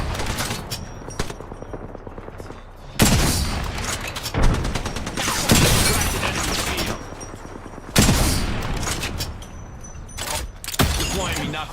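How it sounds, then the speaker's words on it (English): Weapon fire in the video game Apex Legends, loud rapid bursts of automatic gunfire in several volleys with short pauses between them, close and dominant. "Opening fire."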